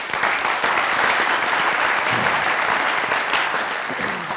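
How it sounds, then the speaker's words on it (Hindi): Studio audience applause on a Pakistani comedy talk show, loud and sustained throughout with dense clapping and no speech over it. "बहुत सारी तालियां।"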